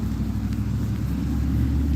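Road traffic going past, a steady low rumble of vehicles heard from a moderate distance, continuous and fairly loud with no voices.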